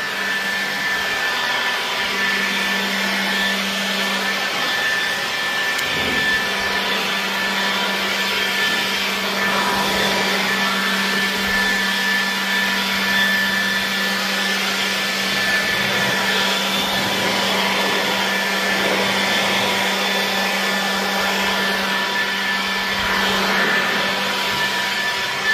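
A Blaupunkt cordless blower runs continuously at close range for about twenty-five seconds, giving a steady whooshing, vacuum-like roar with a faint electric whine and small shifts in airflow.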